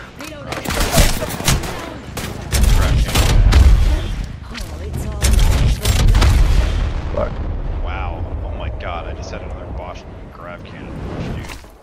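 Video game gunfire bursts out in loud, rapid volleys and booms across the first half, then fades into scattered shots while players talk and shout over it.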